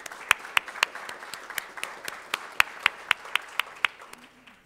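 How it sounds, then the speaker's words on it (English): Scattered applause from a small audience at a school district governing board meeting: distinct, fairly sparse claps in an uneven rhythm, moderately quiet, fading toward the end. "let's give a round of applause to Samantha Alcott-Chapman."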